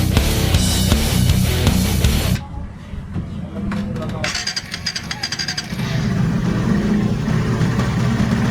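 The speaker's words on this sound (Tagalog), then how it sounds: "So painitin lang natin yung kanyang makina" A Rusi/Suzuki Raider 150 FI motorcycle engine idles as it warms up after a coolant change, a steady close rumble that briefly dips and then returns.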